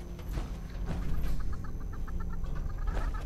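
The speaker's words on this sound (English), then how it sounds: "I keep hearing this chicken and it's got me on edge" Chicken clucking in the video game Fallout 76, a series of short rhythmic clucks at moderate distance over a low rumbling game ambience.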